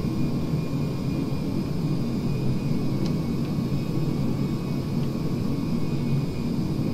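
An airliner on landing approach with its gear down in Flight Simulator X: a loud, steady jet-engine whir and rumble that holds evenly throughout with no talk.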